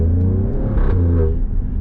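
A 510 bhp Alfa Romeo Stelvio Quadrifoglio's 2.9-litre V6 bi-turbo engine gives a deep, steady, close rumble with a slight swell in revs partway through.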